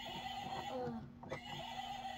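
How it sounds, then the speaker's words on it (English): A common horse neighing at a farm, a whinny with some faint hoof clatter, moderately near over a steady background hum. "This is the sound of a common horse."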